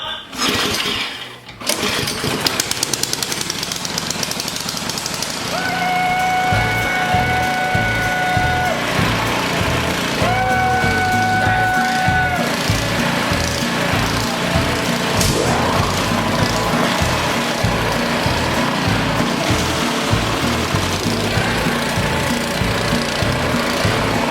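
An Ariens Professional 21 snowblower's engine starts after a brief pause, then runs at a loud, steady chug for the rest of the stretch, with its pitch shifting a little as it settles.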